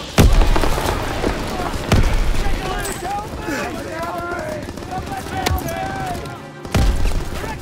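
A grenade explosion and gunfire in the World War II shooter Call of Duty WWII: heavy booms and sharp shots repeat throughout a busy battle, with shouted voices mixed in.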